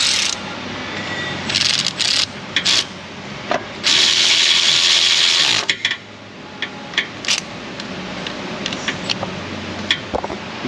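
Mounting bolts on a 2006 Dodge Charger 5.7 A/C compressor are run down with a power tool, giving loud, close, repeated short whirring bursts and one longer run, followed by scattered clicks and taps.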